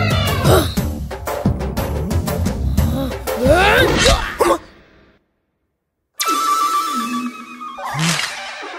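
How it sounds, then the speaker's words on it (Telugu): A high, piercing electronic phone ringtone plays in repeated bursts, breaks off into silence, then returns with a steady tone and a squealing sweep. "ఈ రింగ్ టోన్ విన్నావా?"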